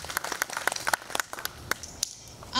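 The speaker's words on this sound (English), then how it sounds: "So I think we need another round of applause for that" Scattered clapping from a church congregation, individual claps close and uneven over a couple of seconds before a louder burst of noise at the end.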